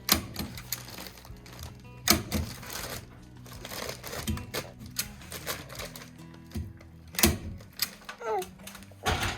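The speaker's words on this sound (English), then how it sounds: "I'm just gonna pull it tight and staple it all the way down until I get to that wire" Insulation paper is pulled tight and stapled to a barndominium wall, giving repeated sharp staple-gun snaps at irregular intervals, loud and close, with rustling of paper and some talking in between.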